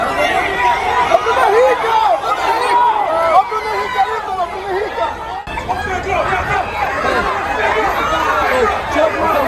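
Flamengo football fans crowd together in a festive celebration, a dense, steady wall of overlapping voices and chatter carrying on without a break, loud and close all around.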